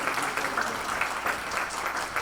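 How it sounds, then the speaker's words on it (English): A panel audience at a young professionals' event gives a round of applause, a soft, even patter of many hands that holds steady at moderate distance. "All right, so give them another round of applause."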